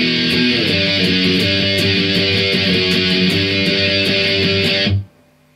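Interlude B of a song on a heavily distorted electric guitar: a steady run of loud, driving downstrokes with shifting notes, played alone for about five seconds before cutting off abruptly.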